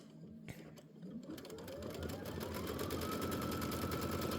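A sewing machine starts stitching a pieced quilt block of fabric, a few clicks and a thump, then the motor whirs up into a steady, rapid mechanical chatter that builds in loudness and holds. The sound is close, with no speech over the running machine.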